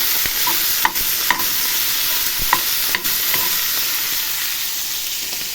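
Onion cut into half-rings fries in a pan toward a golden colour, a loud continuous sizzle broken by a few sharp clicks and scrapes of a utensil against the pan.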